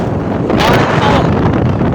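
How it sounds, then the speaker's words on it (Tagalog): Strong wind buffets the microphone on a fishing boat at sea in rough conditions, with a constant loud rush of wind and crashing water through the whole moment. "Laki ng alon pare."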